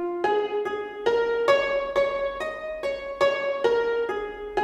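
A Berlin Harps sampled harp library, tuned to a pentatonic scale, plucks a steady run of single notes climbing and settling in a regular rhythm, each note ringing clearly and close with no talking.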